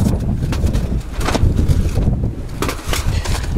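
Strong wind roars and buffets the microphone steadily and loudly at a freezing winter campsite at Higashi-Kotoya in Japan, with no clear talk over it.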